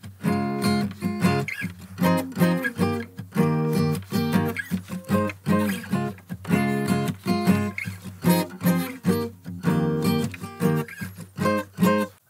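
Guitar strumming the repeating chords of a song, played as a steady rhythmic pattern, loud and close throughout, with no talking.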